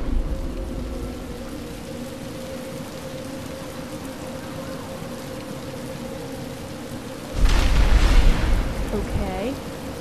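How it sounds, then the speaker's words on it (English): Indoor rain in the Batman: Arkham Asylum video game, a steady hiss of falling water under a low drone, with a sudden louder burst of rumbling splash near the end. "Why did it start raining indoors?"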